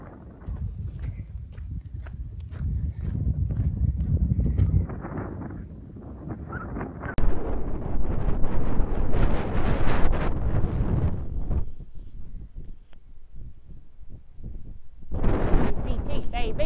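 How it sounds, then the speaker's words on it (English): Wind buffets the microphone in low rumbling gusts, rising and easing throughout, with a voice talking intermittently over it. "And it's a little less windy on this side."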